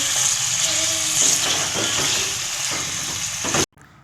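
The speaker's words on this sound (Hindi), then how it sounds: "चिकन को हम फ्राई कर लेंगे।" Steady, close sizzling of chicken frying in hot oil, with occasional stirring scrapes, then cutting off abruptly near the end.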